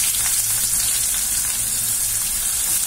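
Chopped onions dropped into hot oil with tempering spices for a bitter gourd fry, sizzling loudly and steadily up close with a bright crackling hiss.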